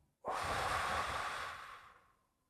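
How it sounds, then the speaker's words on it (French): A single deep breath taken during a guided breathing exercise, a sharp intake followed by a long, close, steady exhale that fades out over about two seconds. "Une respiration."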